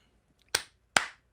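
Two sharp hand claps ring out close and crisp, spaced about half a second apart, each snapping loudly and decaying quickly in an otherwise quiet room.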